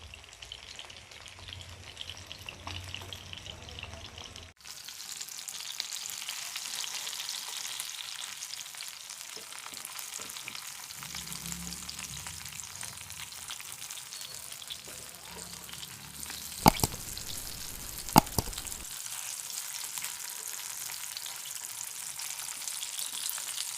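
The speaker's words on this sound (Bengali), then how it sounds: "মিডিয়াম ফ্লেমে মাছগুলো ভেজে নেব।" Fish frying in oil over a medium flame, with a soft, continuous sizzle that rises after a few seconds and holds steady, broken by a couple of brief clatters near the end.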